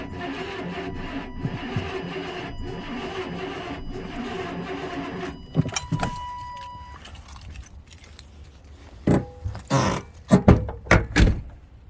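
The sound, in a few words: Chevy Tahoe engine cranking after sitting a long time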